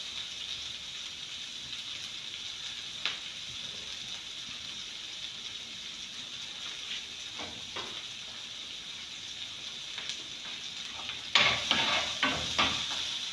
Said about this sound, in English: Then I'll add my white onions.